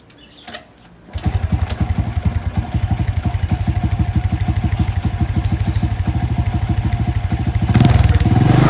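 A small motorcycle engine, a Honda Wave 125 with engine damage, starts after a brief pause and runs steadily with a rhythmic, clattering idle, revving slightly louder near the end.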